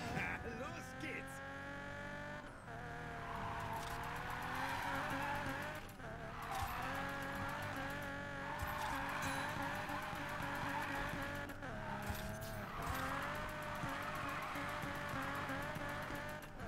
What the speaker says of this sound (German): 200 Meter ohne Unterbrechung querfahren